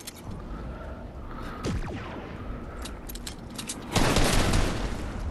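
Bursts of rapid gunfire in the video game Fortnite from a UFO, crackling in short volleys with a louder, denser burst near the end, no talking.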